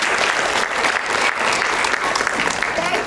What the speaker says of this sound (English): Can we give a round of applause for Mrs.